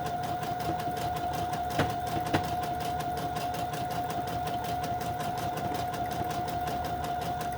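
A sewing machine runs steadily, stitching fabric and lace snippets down onto a roll, with a constant close mechanical hum and a couple of brief clicks partway through; no one speaks.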